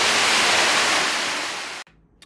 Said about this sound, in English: We've got a 20-foot waterfall inside this cave.